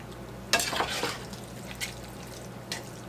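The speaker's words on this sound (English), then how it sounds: "I'm going to stir a cup of cheese into this mixture" A cup of cheese stirred into a tamale pie mixture in an iron skillet, a few close scraping strokes with soft wet squelches over a steady low hum, no talking.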